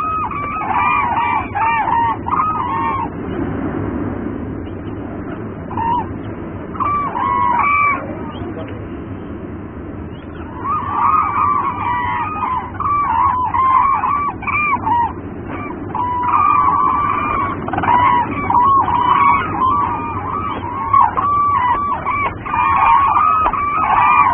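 Cranes call repeatedly as they circle a monastery, their honking cries rising in overlapping bursts over a steady background, with narration spoken over them throughout.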